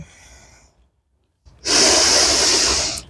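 A person in a plank exercise class gives one long, forceful breath out after a brief pause, close and loud.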